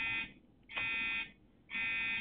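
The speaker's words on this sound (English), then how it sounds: "Travis and Robert, there's a fire alarm going off in our building" A building fire alarm sounds in two loud electronic bursts separated by a short gap, its harsh buzzing tone repeating steadily with nothing else over it.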